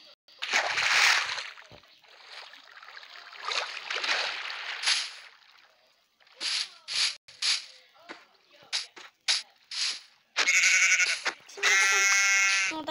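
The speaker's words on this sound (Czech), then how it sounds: "No tak teďka nacházím ovce" Sheep bleating in a video game, several separate calls in bursts, loud and close, with other game noise between them and no talk.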